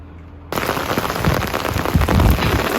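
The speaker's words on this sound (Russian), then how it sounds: "Ух, какой ливень!" Heavy autumn rain pours down outside a window during a dawn thunderstorm in September, a dense, steady hiss that starts abruptly and stays loud and close throughout.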